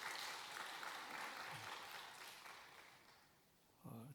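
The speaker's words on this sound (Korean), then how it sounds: "우리 다 같이 박수로 격려하겠습니다" Church congregation clapping after a hymn at a Wednesday service, a soft, distant wash of applause that fades out over a few seconds.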